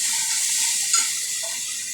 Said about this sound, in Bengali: এবার অল্প করে আগে একটু জল দেবো